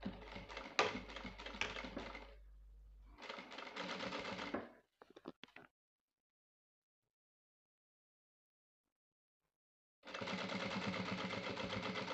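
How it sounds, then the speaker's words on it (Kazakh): A sewing machine stitches along a sweatpants waistband with stretched elastic, running in close rapid bursts separated by pauses and a long stretch of silence before the whirring resumes. "Енді осы сызған сызықтарымыздың үстінен тігіп шығамыз."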